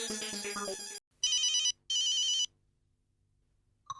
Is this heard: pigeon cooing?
no